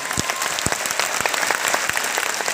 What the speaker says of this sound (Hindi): एक बार दशरथ माता की सम्मान में जोरदार ताली हो जाए